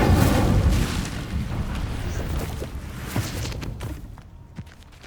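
An Incendio fire spell cast in Hogwarts Legacy erupts in a loud booming blast of flame that fades into a rumbling, crackling burn with a few faint thuds.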